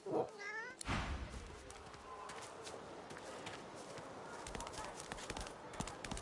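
A cat meows in the horror game SongBird Sins, a short harmonic cry near the start followed by a soft bump and a steady ambient game drone with scattered faint clicks.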